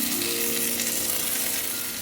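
Tomatoes frying in a pan for a Bengali-style tomato bharta, giving a steady, close sizzle with a faint hum held evenly throughout and no talking.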